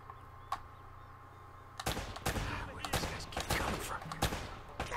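Video game gunfire from Uncharted: scattered single shots, then dense bursts of rapid automatic fire and impacts, moderately loud against a quiet background hum.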